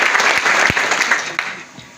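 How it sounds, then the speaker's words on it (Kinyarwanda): Villagers gathered for a community assembly clap together, a fairly loud patter of applause that gradually thins and fades toward the end. "mbanze mbasabe rwose mwikomera amashyi"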